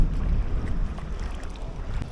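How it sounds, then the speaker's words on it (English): Wind blows across open sea water around a small fishing boat off South Korea. It makes a steady rumbling gust noise on the microphone that rises and falls slightly, with no voices. "it is very windy"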